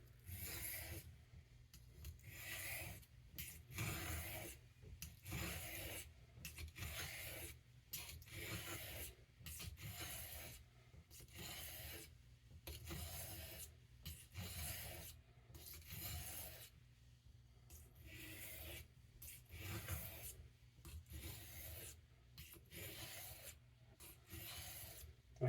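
A Boker C75 knife blade drawn across a sharpening stone in a long series of even, rhythmic rasping strokes, each a short scrape with brief pauses between, close and quiet.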